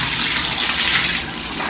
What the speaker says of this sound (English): And the shower works pretty good.